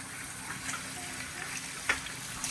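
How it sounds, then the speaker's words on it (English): A kitchen sink tap runs hot water to wash rice, giving a steady, moderately quiet rush of flowing water with a few small splashes and no talking. "Bring it over here to the sink. Put it on the hot water, alright?"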